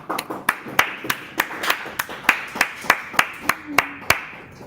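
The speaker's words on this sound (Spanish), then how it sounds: "quisiera pedir un aplauso para el grupo" A small group claps after a presentation, sparse and rhythmic, roughly a dozen distinct claps in a steady beat, close and clear.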